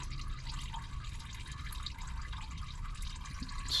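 Motor oil drains from a Toyota Tundra during a driveway oil change, a faint, continuous trickling and splashing stream with no voices.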